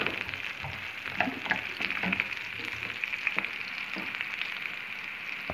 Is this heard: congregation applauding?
no